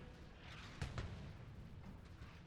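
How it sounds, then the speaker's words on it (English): MAC cannon firing in the Halo mod of the space strategy game Sins of a Solar Empire, one sharp booming shot over a steady low rumble of battle ambience. "The Mac cannon blasting against the enemy Halcyon over there."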